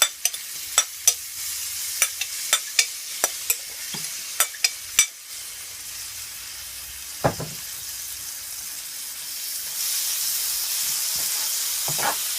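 King prawns and smoked sausage with herbs are stirred in a pot, with a run of sharp utensil scrapes and knocks against the pot, then a steady sizzle and hiss of frying that grows louder toward the end.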